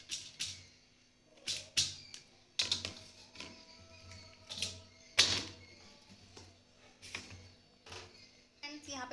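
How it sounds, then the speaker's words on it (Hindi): A knife chopping cluster beans (guar phali) on a cutting board in a home kitchen, with sharp, close, irregular knocks spaced about a second apart over a quiet background. "ये मैंने फलियाँ काट ली हैं"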